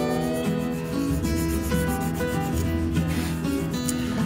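Nail file rasping a stiletto acrylic nail tip into a sharp taper: steady, close back-and-forth scraping strokes, fast and even, with no talking.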